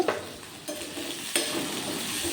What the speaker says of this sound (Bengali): সর্ষে কাঁচা লঙ্কা পোড়া দিয়ে প্রথমে সবজিগুলো একটু হালকা ফ্রাই করে নেব নুন দিয়ে হালকা ফ্রাই করে